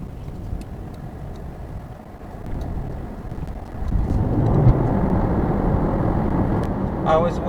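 A delivery car on a 7.4-mile, 17-minute drive, its steady engine and road rumble growing louder partway through and holding as a continuous low drone, with faint traffic noise around it.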